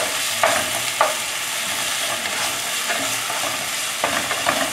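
Dry roasted hot chili and tangerine peel stirred in a hot pan, a loud, even hiss of oil with a few quick scraping strokes of the spatula, close and uninterrupted by talk.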